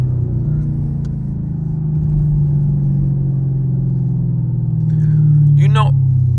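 A Chevrolet Camaro SS drones steadily from inside the cabin on a night drive, its low engine rumble building slightly toward the end while a voice briefly speaks over it.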